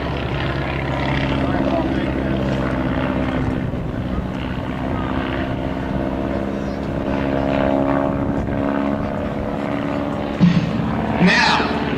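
Stunt airplane at an airshow holding full throttle with its nose high during a power-on stall demonstration, a sustained propeller engine drone heard from the crowd line with a commentator talking over it.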